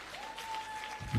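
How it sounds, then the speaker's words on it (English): Audience applause at a youth sexual and reproductive health conference, a soft spread of clapping under a steady electronic hum, swelling into a louder burst at the very end. "Another round of applause for Lauren Hill."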